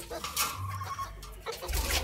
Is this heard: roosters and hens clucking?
yes